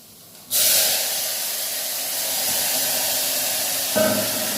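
Hot oil erupts into a loud, steady sizzle as spices hit it for tempering an onion-potato curry, hissing continuously for several seconds with a brief extra crackle near the end.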